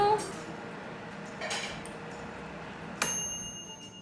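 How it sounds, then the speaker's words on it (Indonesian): A Signora jumbo air fryer gives one clear, bright electronic ding near the end to signal that cooking has finished. The chime rings on with a sustained tone over quiet kitchen background noise. "Nanti kalau udah selesai dia bakal bunyi ting"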